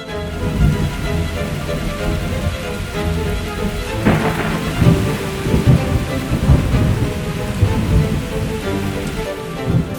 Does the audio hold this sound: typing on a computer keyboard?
no